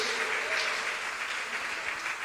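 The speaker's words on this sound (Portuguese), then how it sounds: "Dê um aplauso bem forte." A church congregation at a Sunday evening family service breaks into loud, sustained applause, a dense wash of many hands clapping at once with no letup.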